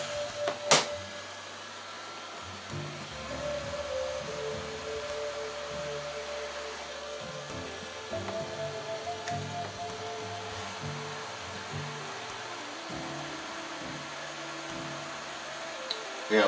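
Hot air from a rework tool hisses steadily over the circuit board of a 65-inch RCA LED TV during repair, a constant fan-like whoosh with faint clicks and handling noises.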